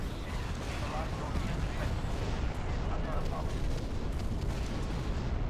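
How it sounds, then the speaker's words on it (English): Torpedo launchers fire in a Star Wars space battle game, a dense continuous rumble of heavy booms and blasts that stays loud and low throughout with no clear gaps. "Fire their torpedo launchers."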